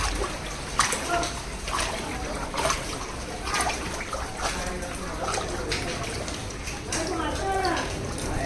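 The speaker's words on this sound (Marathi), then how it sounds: "भाई इकडे सर्वीकडे पूर्ण पाणी भरलंय आहे रूममध्ये" Floodwater sloshes and splashes across the floor of a room flooded during heavy Mumbai monsoon rain, with irregular nearby splashes and trickling beneath someone talking throughout.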